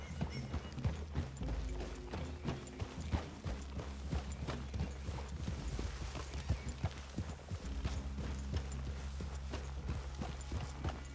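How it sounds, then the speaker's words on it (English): Horses walking in Red Dead Redemption 2, a steady run of hoof clops with an occasional whinny over a low continuous game-world rumble, close and moderately loud throughout. "I'd leave your horses the other side of this clearing."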